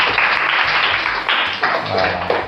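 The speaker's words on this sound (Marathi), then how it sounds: "टाळ्या वाजवा आरुष्यासाठी" A small group clapping for a child who solved a matchstick equation puzzle, with brisk, somewhat uneven applause that lasts a couple of seconds at close range.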